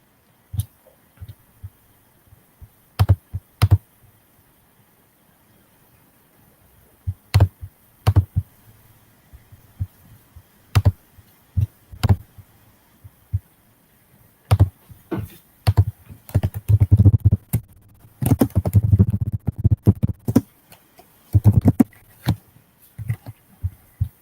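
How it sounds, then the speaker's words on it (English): Someone types on a computer keyboard in short, irregular bursts of sharp clicks. Sparse taps at first grow into denser, louder clattering runs toward the end, heard close with quiet gaps between. "When I'm typing, it's pretty loud"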